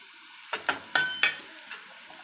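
Onions and tomatoes sautéing in a pan for a tomato chutney, with a few distinct scraping stirs of a spoon over a faint, steady sizzle, close and moderately quiet.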